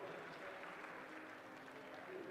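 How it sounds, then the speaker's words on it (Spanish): Audience applause for young entrepreneurs and a presenter at a social economy event, a soft, continuous wash of clapping heard from a distance at low volume. "Les pido por favor un aplauso para todos ustedes y para Pablo"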